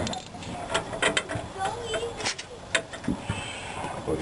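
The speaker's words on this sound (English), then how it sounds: "We'll just bolt these up." A ratchet clicks in quick bursts while radiator bracket bolts are run down on a Honda Odyssey, close and mechanical, with clanks of metal and a person speaking over parts of it.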